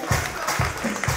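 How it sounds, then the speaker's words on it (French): A brief burst of hand clapping from a crowd at a birthday party, several loud claps in quick succession over a low murmur. "applaudissez pour lui"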